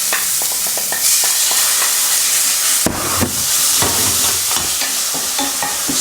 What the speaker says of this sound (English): Stir fry until aromatic.